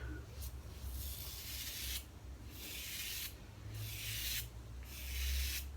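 A Razorock Wunderbar safety razor shaves a head in about four long, rhythmic strokes, each a soft, close rasping scrape separated by brief quiet gaps.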